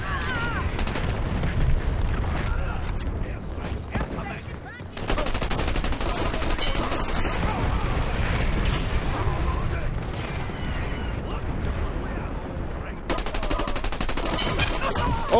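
Sustained automatic gunfire in the shooter game Dirty Bomb, loud and continuous with a short lull, a voice talking over the clatter at times.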